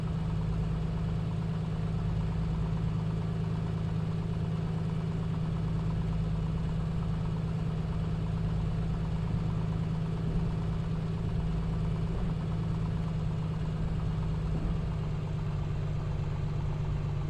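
Steady low drone of an A2A Piper Comanche's piston engine idling as the light aircraft taxis in MSFS 2024, a constant even hum with no talk over it.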